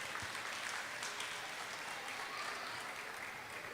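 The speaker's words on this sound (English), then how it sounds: "So they deserve a round of applause." An audience at a primary school academic bowl gives sustained applause, an even wash of many hands clapping, moderately distant and steady throughout.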